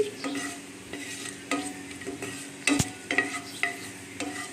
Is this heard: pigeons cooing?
no